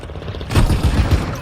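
Gunfire in Call of Duty Modern Warfare II breaks out as a burst of loud, rapid shots after a brief quiet moment, then continues as a close, rumbling volley.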